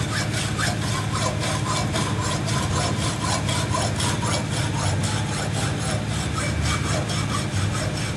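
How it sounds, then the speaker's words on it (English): A hacksaw cuts through a metal bolt in steady, rapid back-and-forth strokes. The rasping rhythm continues without pause throughout, close and loud. "Now I'm going to use this hacksaw and cut this bolt off."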